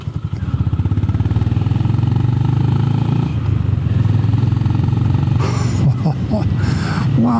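Close and loud, the exhaust of a Honda GB 350 S motorcycle keeps up a low throbbing beat while riding, with a short burst of talk and wind noise toward the end.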